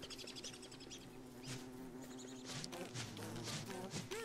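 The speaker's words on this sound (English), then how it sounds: "You kill those bees." Bees in a video game drone and buzz steadily at low volume, with a few louder passes swelling in and out over a dim background.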